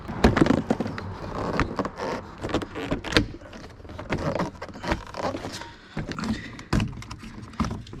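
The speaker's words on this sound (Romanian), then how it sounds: "Acum următorul pas este doar să declipsăm ușa." A door trim panel on a Volkswagen Passat B6 is pried off, its plastic clips popping loose in a string of sharp, close snaps and cracks mixed with scraping and rattling.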